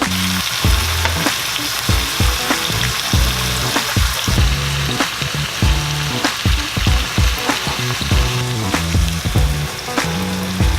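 Portabella mushrooms frying in a pot while cooking vegan ackee, a steady close sizzle with rhythmic stirring scrapes and clatter running throughout, no voices.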